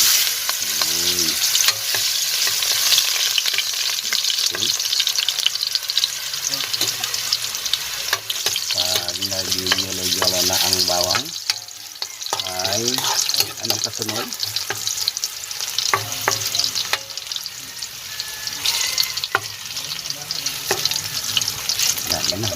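Garlic sautés in hot oil in a pan, a steady bright sizzle with scraping stir strokes throughout, close and loud, while a faint voice or two comes through now and then.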